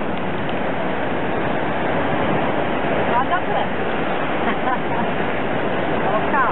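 Seaside wind rushes in a constant broadband roar during a bike ride along the coast, with a voice speaking briefly over it.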